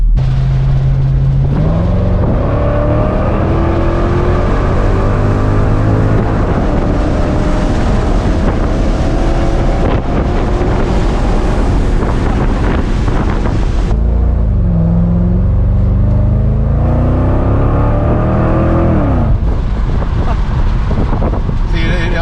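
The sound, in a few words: Lexus IS F engine revving with a backfire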